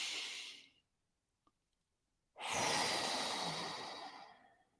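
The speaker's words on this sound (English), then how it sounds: "you just breathe in, breathe out like before." Slow mindful breathing during a guided meditation: a long, soft airy exhale that fades out, a pause of near silence, then a fuller breath that swells and slowly tapers, close and alone.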